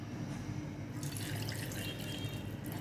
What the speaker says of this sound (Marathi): आता परत एकदा पाणी घालायचं आहे आणि परत फिरवायचं थोडंसं.